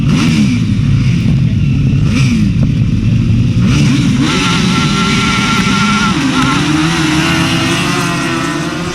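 Grasstrack sidecar motorcycles at the 2004 British Masters race flat out down a straight, a loud, continuous roar of engines that holds steady throughout with overlapping rising and falling pitches as the outfits pass.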